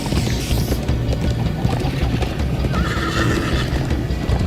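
Horse neighing and galloping in Minecraft Story Mode video game, a whinny over rapid hoofbeats with rushing movement noise, fairly loud and continuous.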